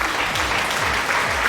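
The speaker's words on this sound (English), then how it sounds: "Getting applause." A crowd applauds steadily and fairly loud throughout, dense clapping with no gaps and a few faint low voice-like murmurs underneath.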